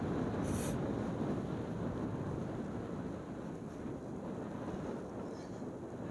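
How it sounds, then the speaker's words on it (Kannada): Strong wind buffets the microphone on a mountain road in Ladakh near Magnetic Hill, a steady loud rumbling roar throughout with no voices. "ಈ ರೋಡಲ್ಲಿ ಸ್ವಲ್ಪ ದೂರ ಗಾಳಿ ಸಿಕ್ಕಾಬಟ್ಟೆ ಹೊಡ್ತಾ ಹೊಡೆಯುತ್ತೆ"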